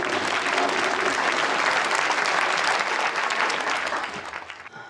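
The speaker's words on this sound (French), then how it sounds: "Vous pouvez l'applaudir, il aime beaucoup ça." A theatre audience applauds in a steady, dense burst of clapping that fills the room at full strength, then thins and fades out near the end.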